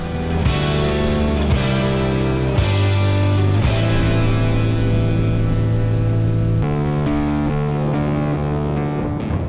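Heavy rain and strong 40-knot wind batter a boat anchored off low-lying atolls, a dense, steady roar of drops drumming on surfaces that lasts the whole stretch, loud and close, with no voices.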